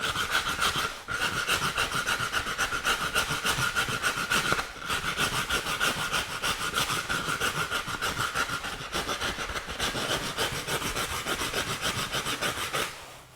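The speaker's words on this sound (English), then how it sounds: "I'm just scratching up the surface" Steady, close rasping scratches across the surface of a foam turkey mannequin form, rubbing back and forth almost continuously with a couple of short pauses, no voices.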